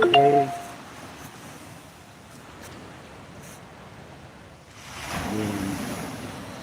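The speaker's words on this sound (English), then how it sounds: "you hear the sound of the waves" Ocean surf on a Philippine shore washes in and recedes, a soft broad rush that swells louder near the end, after a brief louder sound at the very start.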